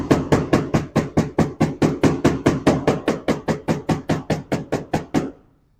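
Foundry sand rammed firmly into a metal-casting mould, about twenty evenly spaced heavy thuds in a quick steady rhythm, loud and close with no voices.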